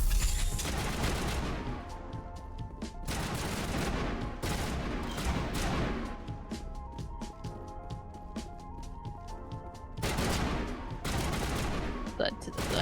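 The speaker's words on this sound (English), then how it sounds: "They got their wall hacks on? They're shooting through the floor?" Enemy gunfire in Mass Effect 1 comes as repeated bursts of shots separated by short gaps, moderately loud, with other game noise underneath.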